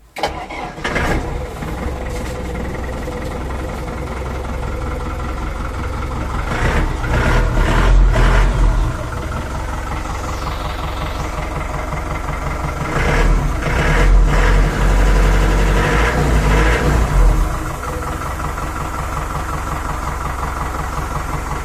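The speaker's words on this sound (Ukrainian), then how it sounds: "давайте, мабуть, заведу, послухаємо, як працює трактор" A YTO NME 554 mini tractor engine starts and settles into a steady, close idle with a rumbling drone, revving up briefly a couple of times.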